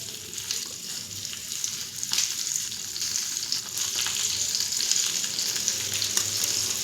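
Okra (bhindi) fries in oil on a tawa over low heat, a steady close sizzle with occasional light stirring scrapes and small crackles running throughout.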